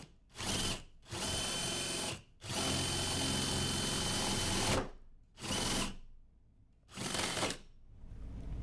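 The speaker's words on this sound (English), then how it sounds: "it'll drill right through." A power drill bores through a piece of wood in loud, close bursts, several drilling runs of a second or two each separated by short pauses, with a longer sustained run in the middle.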